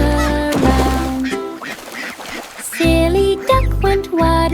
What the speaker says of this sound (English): Silly duck went waddling by, with a pop and quack nearby